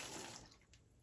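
Running tap water pours onto peas in a strainer, a steady close hiss and splash that tapers slightly over about a second, with no voices.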